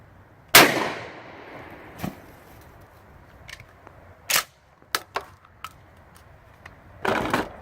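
Twelve-gauge shotgun loaded with 2 3/4 inch nine-pellet double-aught buck fired at a book bag: one sharp loud blast, followed by scattered clicks, clanks and handling knocks, no speech.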